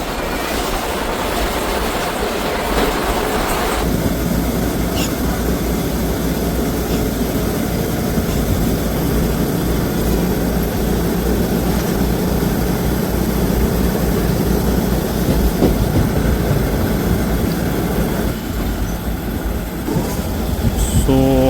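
The Sri Ganganagar–Ambala Cantt Express, train 14735, rumbles along at about 110 km/h, wheels clattering rhythmically on the rails with a steady roar and occasional squeal, loud and close throughout.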